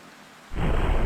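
A thunderstorm in the game GTA San Andreas Definitive Edition breaks in suddenly after a quiet moment, becoming a loud broadband rumble and roar of thunder and heavy rain.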